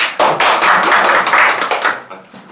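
A small group claps hands together, quick dense clapping that starts abruptly, carries on briskly near and loud, then thins out and fades toward the end.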